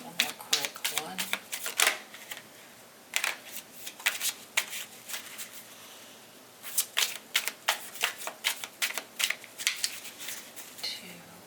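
A deck of tarot cards is shuffled by hand in quick riffling bursts, close and crisp, with short gaps between rounds of shuffling.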